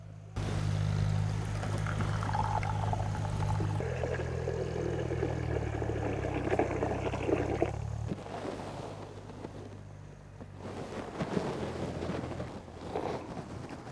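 Tamarind water for Telangana-style pachi pulusu pours into a bowl with a soft, steady trickle and splash, faint and close, over low background hum.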